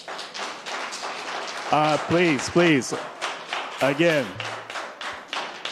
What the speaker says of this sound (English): again, please refrain from clapping